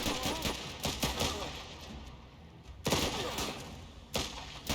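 Machine gun fire in the video game The Last Train Home, sounding as repeated rapid bursts of loud shots with short gaps between them. Background game noise runs underneath.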